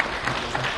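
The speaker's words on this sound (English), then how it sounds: "Please, let's encourage the round of applause." Applause from a conference audience at an anniversary policy dialogue, a dense steady wash of many hands clapping together, fairly loud and filling the whole brief moment.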